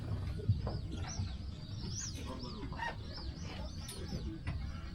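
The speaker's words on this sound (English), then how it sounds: "There's some magpie geese flying over to the right." Magpie geese honk overhead at a moderate distance, several birds calling in overlapping bursts over low background rumble, at sunrise at Cooinda in Kakadu, Northern Territory.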